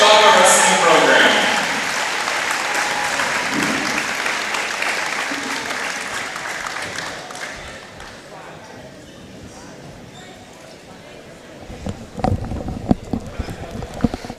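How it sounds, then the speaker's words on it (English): Gym crowd at a high school wrestling tri-match applauds senior team members, loud at first and fading over several seconds into quieter room noise, followed by scattered thumps and bangs near the end. "Once again, let's have a big round of applause for all 9 of our senior members of the West Geauga Wrestling Program."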